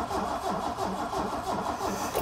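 An old car engine that has not run for a very long time turns over and catches, a rough, steady mechanical churning that stays loud and even throughout with no talk.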